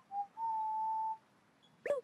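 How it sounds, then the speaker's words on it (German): A single clear whistled melody note, the fisherman's whistle from the video game TOEM, holds steadily for under a second after a short opening chirp, followed by a brief burst of other game sound. "Fisherman's Whistle. Hoffentlich ist sie hilfreich."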